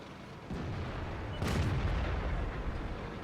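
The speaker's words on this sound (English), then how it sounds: "Took a shot on the move." A single tank cannon shot fired on the move in World of Tanks, a T-34-2 medium tank, booms out sharply and then rumbles on low and heavy for a second or more over steady battle ambience.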